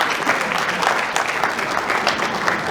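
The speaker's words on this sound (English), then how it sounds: "A big round of applause for all our guests." Steady, dense applause from a sizable crowd at a corporate celebration fills the space, clapping evenly without pause from start to finish.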